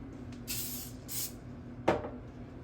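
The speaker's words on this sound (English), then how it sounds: "I'm gonna spray down that cup a little bit so it won't stick so much." Cooking spray hisses onto a cup used to press peanut butter bar mixture, in two short bursts followed by a sharper clatter, close and fairly quiet.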